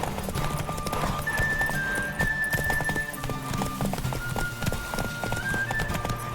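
Galloping horse Roach in The Witcher 3: a fast, even clatter of hooves runs throughout at close range, layered over soft game music and rushing air.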